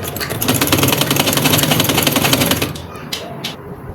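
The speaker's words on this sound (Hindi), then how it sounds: "कपड़े के ऊपर हमने सिलाई लगानी है" Sewing machine stitching a line on fabric over elastic on trousers, a fast, steady mechanical clatter for a few seconds that stops abruptly, followed by a few faint handling sounds.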